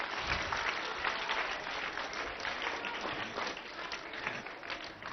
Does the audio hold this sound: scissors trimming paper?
no